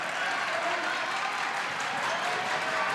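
High school basketball crowd at McCune applauding and rising to their feet, a broad steady roar of clapping and crowd noise from a packed gym, sustained and even.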